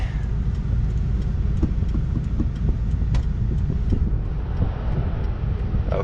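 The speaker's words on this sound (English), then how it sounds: "Wait for these trucks to go by." Trucks pass on a road beside a pulled-over Ford Excursion, their rumble a dense low roar with scattered clicks and rattles, steady and fairly loud for the whole stretch, with no voices.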